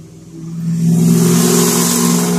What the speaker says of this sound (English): I'll never understand people with loud trucks.